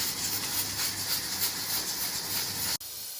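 Steady, loud hiss of steam escaping from a pressure cooker cooking turnip and chicken, broadband and continuous, cutting off abruptly near the end to a quieter background.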